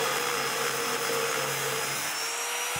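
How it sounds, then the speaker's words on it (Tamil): Steady, loud welding hiss and buzz with a high whine while a metal sheet is welded onto a rod to make a rudder for a homemade fiber boat, continuous throughout with no talking. "இதை அந்த ராடுக்கு மேலே வச்சு நம்ம வெல்டிங் பண்ணிக்கலாம்."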